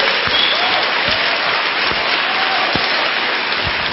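Congregation applauding during a Catholic sermon, a steady wash of clapping from a gathered audience with a few sharper claps standing out, continuing throughout.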